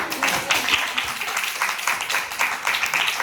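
Audience at a doctoral dissertation defense claps steadily, a dense patter of many hands held at an even level for a few seconds with no talk over it.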